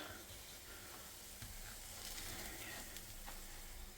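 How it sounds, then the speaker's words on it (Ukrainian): Oat-collagen pancakes fry in oil with a faint, steady sizzle and crackle throughout, a soft continuous hiss with occasional brighter pops, no talking. "Так, смажу на олійці, а потім викладаю на серветочку"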